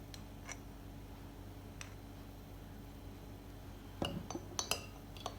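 A spoon clinks against a glass while stirring Jigarthanda dessert, giving a few faint ticks and then a quick cluster of bright clinks near the end. The rest of the clip is a quiet room.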